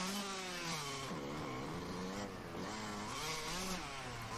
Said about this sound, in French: Oh, la moto qui est partie n'importe comment.